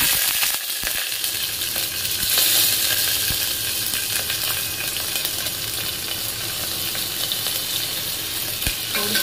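Garlic and chili sautéing in a hot pan for matar chaat: loud, continuous sizzling and frying close up, with occasional stirring scrapes and no talking.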